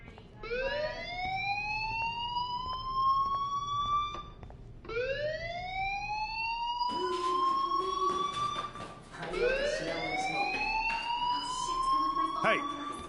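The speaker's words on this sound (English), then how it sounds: "do you hear that fire alarm? That means you should be outside." Rising, wailing fire alarm tones sweep upward again and again in the Life is Strange video game. The tones run loud and continuous, with a few clattering bursts and faint voices underneath.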